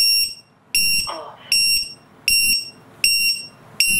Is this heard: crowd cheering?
no